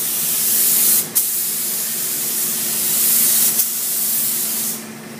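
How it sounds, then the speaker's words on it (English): A spray gun hisses loudly in long, steady bursts as a technician applies a second coat of primer to a car body, with two short pauses between passes. "now the technician will apply the second coat of primer"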